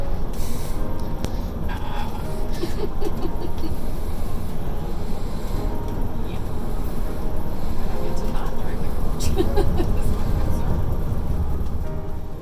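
A motorhome coach cruising on the freeway, with a loud steady road and engine rumble and broadband wind roar that carry on continuously, and faint voices talking underneath.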